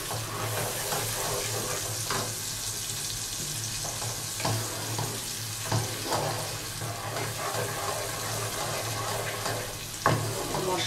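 Spice paste sizzles and fries in a kadai for Bengali kadai chicken, a quiet continuous crackle punctuated by occasional stirring scrapes and clinks.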